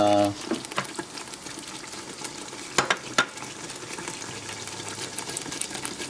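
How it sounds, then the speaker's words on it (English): Onion and spice masala for chicken biryani frying in a pan, a steady close sizzle with a few sharp stirring clatters, under quiet background sound. "I'll be frying it for some more time"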